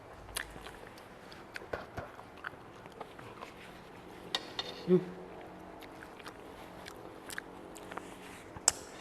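Someone eating khao pun nam ngiao, Thai rice noodles in spicy broth, with close, irregular soft chewing and slurping clicks over a quiet background and a few louder bites.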